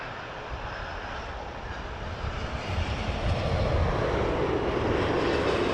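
An airliner arriving at Toronto Pearson Airport: a broad roar of jet engines that swells steadily louder toward the end, continuous and with no talk.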